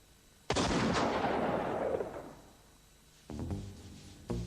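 A single loud shot from a Colt cap-and-ball revolver with its chamber fronts greased, a sharp crack with a long rumbling decay, followed by a few fainter clicks and knocks of the gun being handled.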